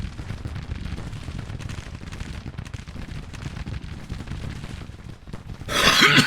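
Artillery fire in Grand Tactician: The Civil War, a dense stretch of rumbling cannon and gunfire thuds rolling on continuously, with a louder, harsher burst near the end.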